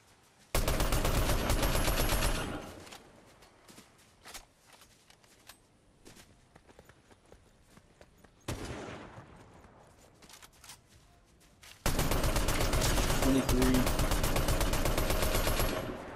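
Bursts of rapid gunfire in a Fortnite Battle Royale match, two long loud volleys separated by quieter scattered shots and movement sounds, with no talking.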